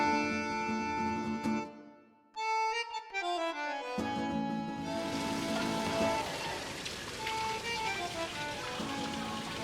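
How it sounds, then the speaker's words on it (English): Rain falls during a walk through the streets of Rome. A steady broadband hiss of rain fills the second half of the clip, following a stretch where tonal music dominates. "It's raining again,"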